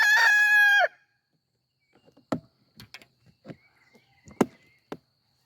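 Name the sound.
rooster clucking and crowing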